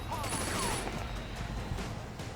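Rapid bursts of gunfire in the video game Triad Wars keep up a dense crackling volley that sounds fairly close, with no clear gaps between shots.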